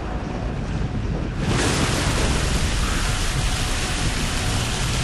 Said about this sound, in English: It's gonna start raining.